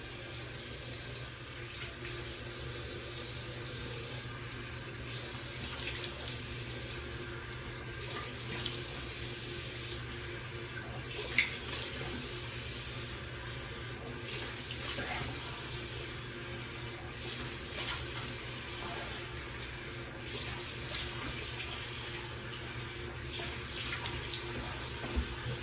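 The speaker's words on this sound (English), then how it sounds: "let's go ahead and just rinse off the face a bit" A bathroom tap runs steadily into a sink while a face is rinsed, a continuous close rush of water with faint splashes and occasional small clinks over its full length.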